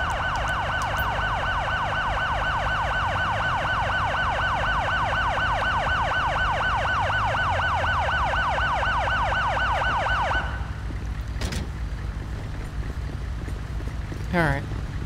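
A wailing ambulance siren in the police video game mod LSPDFR cycles steadily and loudly for about ten seconds, then cuts off, leaving a low rumble of traffic and a couple of brief sharp noises.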